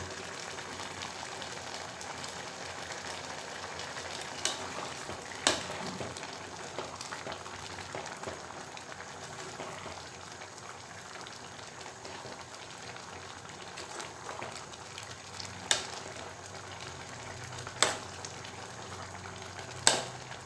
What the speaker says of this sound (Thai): แล้วตอนนี้เราก็มาหม้อเดือดได้ที่แล้วนะคะ